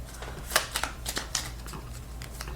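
Playing cards being shuffled close up, a quick series of crisp riffling snaps and flutters, fairly quiet, with no talking.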